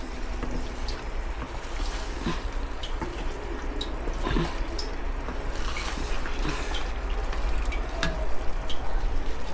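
Goat head and chickpea dal frying in a pan over medium heat, a continuous close sizzle with scattered pops and crackles and occasional stirring clinks, no voices.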